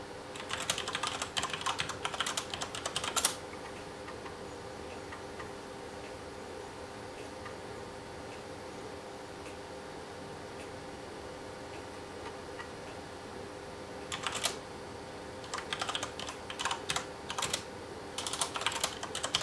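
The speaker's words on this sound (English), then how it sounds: "And there's some seek noise and stuff coming from the floppy." Bursts of rapid mechanical clicking and ticking from a floppy drive seeking on an RC2014 Z80 computer, with a quieter humming stretch between them.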